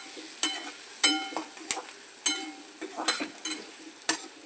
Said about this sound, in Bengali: এই এখন মশলাটাকে কষানো হচ্ছে।